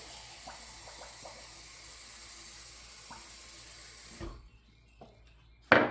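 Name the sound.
hot water poured into a cup of saffron, turmeric and cinnamon tea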